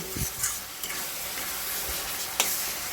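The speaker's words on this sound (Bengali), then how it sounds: "মশলাটা আরেকটু কষবে গাইস, আর একটুখানি কষবে, তারপরে আমি দইটা অ্যাড করব।" Spice paste (masala) stir-fried in a pan sizzles steadily up close, with a few sharp scrapes and stirring knocks breaking through over three seconds.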